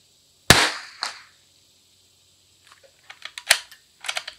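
A Christensen Arms Ranger 22 rifle fires .22LR at a 100-yard range: one sharp, loud crack with a brief tail, quiet, then a second crack amid a scatter of lighter clicks and ticks.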